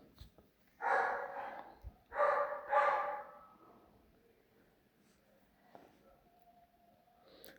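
A dog in a home kitchen gives three close, sharp barks in quick succession, then quiet room sound with faint background noises follows.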